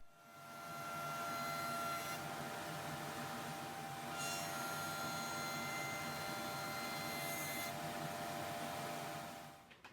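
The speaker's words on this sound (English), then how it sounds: "Then it's onto the planer to do one edge, and then into the thicknesser to finish it to size." Chair timber fed through a planer and then a thicknesser, giving a loud, steady machine roar with a high whine that holds for nearly ten seconds and swells and dips as boards pass the blades.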